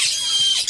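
Lutino Indian ringneck chicks let out a brief, shrill squealing burst at close range, a high-pitched hungry cry lasting under a second.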